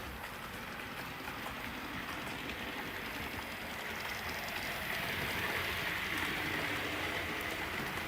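A Bachmann Midland compound model locomotive runs on a model railway layout, giving a steady, continuous rolling rumble with faint rail clatter that holds at an even level and swells slightly toward the end.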